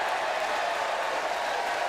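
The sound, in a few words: sarcastic cheer from the baseball crowd at Florida State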